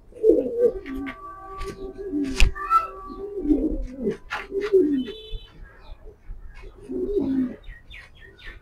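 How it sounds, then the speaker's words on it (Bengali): A female Down-shape pigeon coos in soft, low, repeated bursts at close range, with faint chirps and a brief wing flutter scattered between the calls. "ডাউন শেপের কবুতর মাদিটা"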